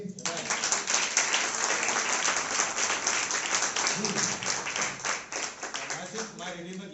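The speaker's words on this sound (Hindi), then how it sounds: "हम प्रभु की तालियां देंगे" Church congregation clapping for the Lord during a sermon, a loud, dense and continuous round of applause with rhythmic clapping filling the whole stretch.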